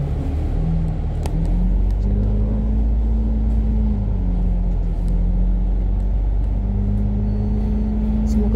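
Heavy Hong Kong traffic jam with cars and buses, a steady low engine rumble and idling hum close by, a droning tone shifting slowly over it, with a voice talking now and then.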